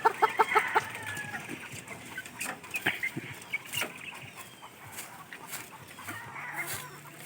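A hen clucks in short, quick bursts at first, then softer scattered clucks and chirps follow in a quiet farmyard.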